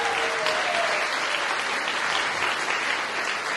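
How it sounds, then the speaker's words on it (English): A crowd at a rally claps steadily for a few seconds, dense and sustained applause at an even level throughout. "I do wanna actually clap for the ACRJ, so can we just give them a hand?"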